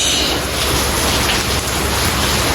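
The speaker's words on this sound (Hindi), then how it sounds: "मैंने सोचा कि इतनी मज़े की आवाज़ आ रही है तो आपको क्यों ना दिखाया जाए कि हो रही है बारिश" Steady, heavy rain pours down outdoors, a dense continuous hiss that stays loud and even throughout, with no voices.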